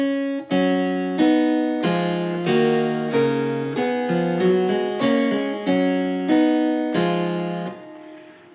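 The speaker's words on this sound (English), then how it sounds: "if you turn the music up the other way around and read it backwards, what you get is this" A piece of Bach's music read backwards is played on a keyboard-like instrument as a run of clear, evenly spaced chords and notes with sharp attacks and decaying tails, close and steady, ending in a short silence.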